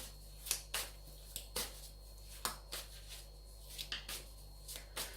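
Tarot cards being shuffled by hand give a series of crisp papery riffles and snaps, roughly one every half second, close and fairly quiet over a low steady hum.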